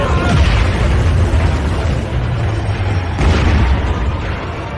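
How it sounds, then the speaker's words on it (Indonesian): Big animated explosion during a fight attack in the donghua Battle Through the Heavens, a loud continuous roaring boom with dense low rumble sustained throughout, a fresh burst near the three-second mark, no talking. "ledakan besar yang mengerikan terjadi lagi"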